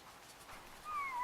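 A hunting pack of dogs running wild boar through dense broom heathland, with a few faint yelps giving way to a louder, drawn-out whining cry near the end.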